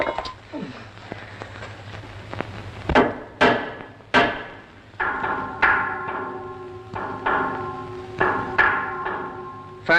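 Metal raps on a submarine hull as a diver strikes it with a spanner, giving a series of sharp knocks with ringing overtones. They come in irregular pairs and groups over about ten seconds, fairly close, against a low background hum.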